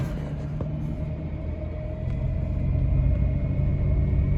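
A 1996 GMC Safari van with a 6-cylinder Vortec engine idles cold just after starting, a steady close low rumble with a faint belt whine, growing slightly louder midway, with no talk.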